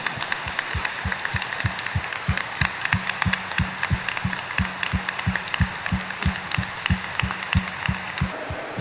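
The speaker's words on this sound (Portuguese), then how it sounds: "Dê uma salva de palmas para esse milagre." A church congregation applauds during a Lenten Sunday Mass homily, with loud, clear rhythmic clapping in steady unison beats running the whole stretch over a dense crowd wash.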